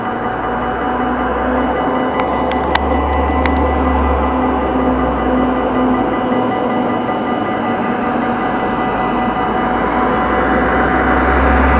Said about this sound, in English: Diesel electric train, the engine is, well, somewhere in the middle of the train.